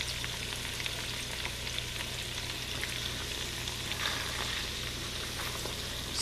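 Floured pork sirloin chops sear in a hot skillet, giving off a continuous close sizzle with light crackles and spatters that stays even throughout, with no talking.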